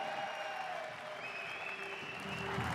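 A crowd in Milan applauds winner Jack Jordan at a STIHL Timbersports World Trophy event, with steady, dense clapping throughout and a faint voice over it.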